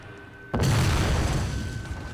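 A single heavy explosion of a boomstick in Jak II, a sudden loud boom that rolls into a long rumbling decay after a quiet lead-in.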